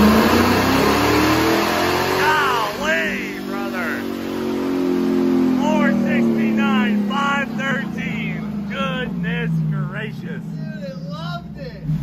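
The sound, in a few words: car engine dyno pull on 90% nitro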